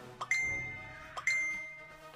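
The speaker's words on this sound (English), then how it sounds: "It won't stop beeping now." An old flip phone gives two short, bright tonal beeps about a second apart, each with a ringing tail, against faint background noise.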